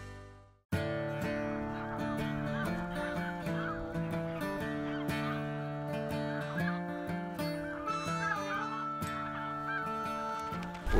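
A large flock of snow geese feeding in a milo field in Kansas, giving a dense, continuous chorus of overlapping honks and calls that stays loud and steady throughout.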